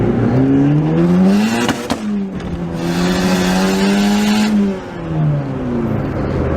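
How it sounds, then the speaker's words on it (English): A turbocharged Honda Prelude engine revs loudly up to the rev limiter, the pitch rising, holding and bouncing under load before dropping away, close and dominant with a brief dip near the end, no voices. "We're hitting limiter, so that means we're not exceeding the map."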